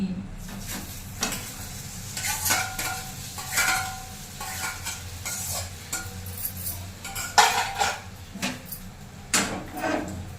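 A spoon scrapes and clinks against a pan while ground puntikura (gongura) leaves are stirred into a chutney, with a soft sizzle underneath and irregular louder scrapes spread across the clip.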